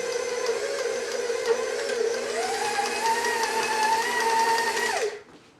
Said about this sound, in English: I'm just going to lightly mix in the blueberries